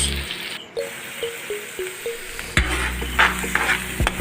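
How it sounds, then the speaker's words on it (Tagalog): Garlic, onion and ginger stir-fried for a Filipino chicken sinampalukan, with a steady sizzle under repeated scraping and clinking of a utensil against the pan, louder strokes toward the end. "Hinahalo-halo lang natin ito hanggang sa nasangkot ka na natin yung bawang, sibuyas at luya."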